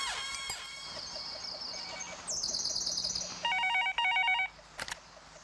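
An office telephone rings with electronic warbling trills in short repeated bursts, loud and close, beginning after a faint tonal hum and ending with a couple of clicks, with no talk.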